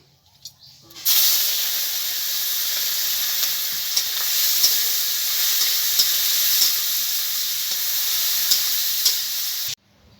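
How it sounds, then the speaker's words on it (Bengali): Fish frying in hot oil in a home kitchen, a loud sustained sizzle that starts abruptly after a brief pause and hisses on steadily, with occasional pops, then cuts off. "এদিকে তেল গরম হয়ে গেছে, মাছটাকে আমি ভেজে নেব"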